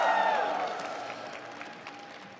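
Crowd at an esports fighting-game tournament, Evo 2025 Granblue Fantasy Versus: Rising match, applauding and cheering in a loud burst that slowly fades, a large hall of clapping hands and voices.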